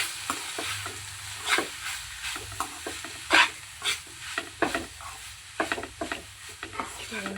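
Mushroom fried rice with salt stirred in a frying pan, repeated scraping and clattering strokes of a spatula at an uneven rhythm over a soft sizzle, close and alone.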